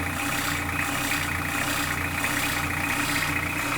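A newly revived engine running steadily at about 1000 RPM, a continuous loud, even drone with low rumbling harmonics, close and with no talk over it.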